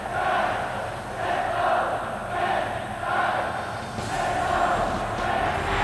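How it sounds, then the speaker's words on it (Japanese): A large stadium crowd in the football game Winning Eleven 9 (J.League edition) roars steadily in swelling waves from both stands at a derby match, loud and continuous throughout. "さらに大きな歓声が両方のスタンドから上がります。"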